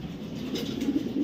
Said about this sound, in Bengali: এটা ফিমেল কবুতর, ফিমেল।